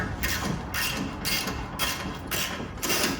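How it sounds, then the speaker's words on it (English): An Allen ratchet is worked on a Mercedes C300 front strut, producing repeated rhythmic ratcheting strokes about every half second, close and moderately loud. "then you got your ratchet, Allen ratchet"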